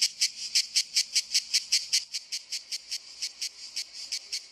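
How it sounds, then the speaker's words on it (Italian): Cicadas in trees outdoors, a loud pulsing shrill buzz repeating in fast regular bursts, about four per second, with no voices. "i cicale si sentono a chilometri di distanza"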